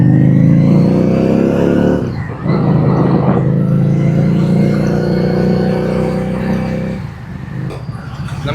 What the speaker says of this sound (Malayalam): വണ്ടി ഒന്ന് ഹീറ്റ് ആവാനായിട്ട് ജസ്റ്റ് സ്റ്റാർട്ടാക്കി വെച്ചിട്ടുണ്ട്